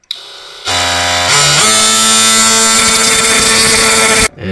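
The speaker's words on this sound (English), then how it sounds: "So we use the multi-tool to cut this. A titanium with metal blade." An oscillating multi-tool fitted with a titanium metal blade cuts during a living room renovation, a loud, steady high-pitched buzzing drone that kicks in abruptly, rises slightly in pitch, then cuts off near the end.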